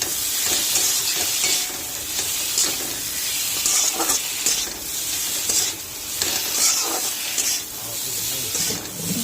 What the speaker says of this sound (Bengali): লঙ্কাটা আদা বাটা হয়েছে, বেশি একবারে ভালো করে বাটিনি, ভালো করে কষিয়ে নেব।